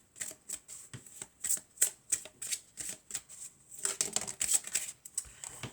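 Tarot cards are shuffled and drawn in quick, crisp bursts of riffling and slapping, close and fairly loud, with short gaps between the rustles.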